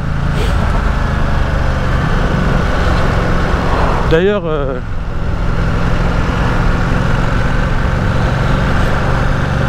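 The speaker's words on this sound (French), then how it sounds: "les voitures là, elles foncent de ouf" Cars speeding past on a road through a town, continuous loud traffic rumble with one vehicle sweeping by close around the middle in a sharp doppler whoosh; someone speaks briefly over it.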